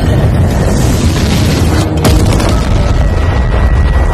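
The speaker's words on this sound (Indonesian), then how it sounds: "apartemen Choi telah terisi gas dan meledak begitu dia membuka pintu depan" A heavy, sustained gas explosion roar in an apartment fills the whole clip, loud and broadband, with a sharp crack near the middle.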